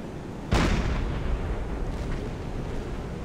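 A single loud deck gun shell shot from a submarine in the naval game Silent Hunter 4, a sudden heavy boom that rolls off into a long rumbling decay over steady sea and engine noise.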